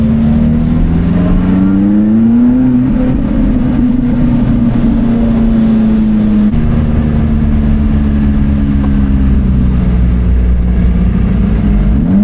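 A Lamborghini Gallardo V10 revving nearby, loud and throaty, its pitch climbing and falling in smooth sweeps, heard alone without voices.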